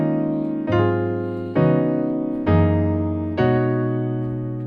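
Piano chords from section 5 of a song, four sustained chords struck about once a second with a low bass note under each, close and clear, each fading before the next.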